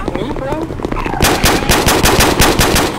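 Rapid automatic gunfire in the mobile multiplayer game SCP: Site-19, a quiet stretch of game sound giving way to a loud, steady burst of repeated shots that runs to the end.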